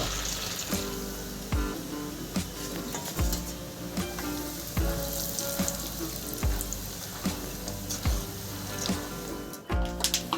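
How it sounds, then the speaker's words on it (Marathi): Peanuts frying in hot oil in a pan while making corn chivda, a steady loud crackling sizzle with bursts of popping and spattering throughout, with no talking. "आता शेंगदाणे तळून घ्यायचे"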